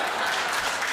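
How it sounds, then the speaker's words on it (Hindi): A crowd claps steadily at a Hindi comedy poetry gathering (hasya kavi sammelan), a brief, dense burst of applause with no voices over it. "एक बार जोरदार तालियां"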